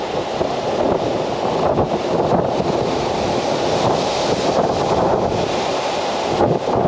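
A stormy sea throws waves against a seaside viewpoint near the Foros sanatorium park in Crimea, making a dense, steady crashing roar with heavy wind buffeting, and no one speaking.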